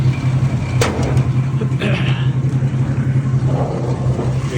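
A 1974 Plymouth Duster engine runs steadily at idle, a loud, close, continuous low rumble with an even throb and a few brief rises in intensity.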